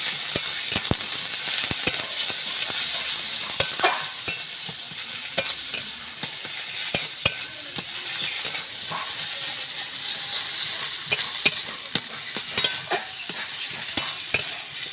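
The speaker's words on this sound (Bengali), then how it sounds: "এবারে আমি ভালো করে নেড়ে চেড়ে ভেজে দেবো।" Bottle gourd peel with salt and turmeric being stir-fried in a pan, a steady sizzle with repeated scraping and clinking of the spatula, close and alone.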